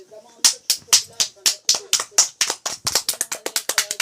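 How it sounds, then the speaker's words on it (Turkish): Close, sharp hand claps in a steady rhythm, about a dozen in a row, speeding up toward the end. "Alkışlar. Alkış."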